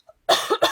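A cough bursts out close and loud, a rough double hack with a brief catch of breath between, after a moment of near silence.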